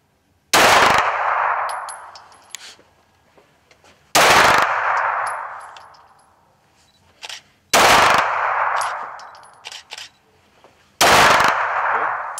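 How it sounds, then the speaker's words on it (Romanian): Pistol shots at an outdoor shooting range: four loud, sharp cracks spaced about three to four seconds apart, each trailing off in a ringing echo, with faint clinks and small sounds between them. "Când suntem gata, introducem degetul în gardă trăgaciului și efectuăm tragerea."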